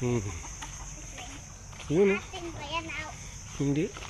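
A chicken clucks in short bursts near a home backyard, with adults and someone talking over and between the calls.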